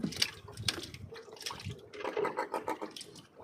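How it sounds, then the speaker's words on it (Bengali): Water splashing beside a small boat while fishing off the Andaman coast, with several close, irregular splashes and drips in quick succession and short gaps between them. "জল ছিটায়, জল ছিটায়,"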